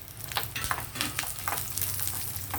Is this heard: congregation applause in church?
no